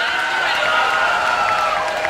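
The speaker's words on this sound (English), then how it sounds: "And a big round of applause for Mitch Larson, Gian Barrow." Sustained applause from a convention audience at BronyCon 2013, loud and steady for the whole stretch, with no break in the clapping.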